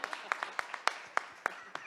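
A small audience at a talk on privacy law gives a short round of applause, sparse individual claps landing in a loose, fairly regular rhythm, soft and brief.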